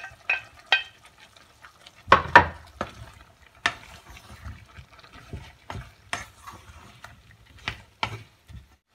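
Pieces of chayote, three small ones, going into a pot of soup on the stove: a handful of scattered clunks and splashy knocks with stirring scrapes between them, fairly close, with no talk.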